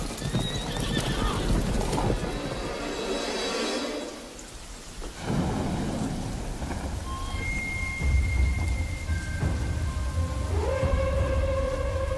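Cavalry horses neigh and whinny loudly in a film battle while hooves clatter, with a heavy rumble like thunder and rain rolling beneath, and the sounds overlap densely throughout.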